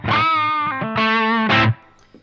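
An electric guitar runs through an analog AC30-style amp pedal set to EL34 tubes and two 4x12 cabs, giving thick, overdriven tone. A few sustained distorted notes ring out close and loud, then stop abruptly, with no talking.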